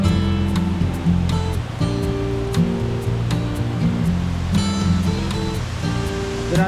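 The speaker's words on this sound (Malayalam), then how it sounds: "ഇതിൻ്റെ തൊട്ട് സൈഡിലാണ് ആദ്യത്തെ വെള്ളച്ചാട്ടം." A roadside waterfall in Kerala gives off a loud, continuous roar of rushing water that stays steady and dense throughout, with faint tonal sounds layered over it.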